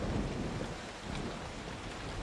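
Steady rain and rumbling thunder of a great storm at sea, used as a sound effect under a Bible story narration; a dense, continuous wash of rainfall with low rolling thunder, no voice present.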